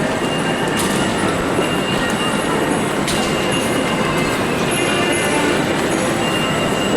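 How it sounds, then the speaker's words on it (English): A Trenord regional train passes on an Italian railway, a loud, steady rolling rumble of wheels and carriages with faint high squeals and clicks running through the whole stretch, with no talking. "There's one of the Trenord regional trains."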